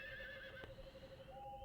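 A horse in the Harvest Moon 64 video game gives a short, clear synthesized whinny, a single call that rises and trails off, heard alone.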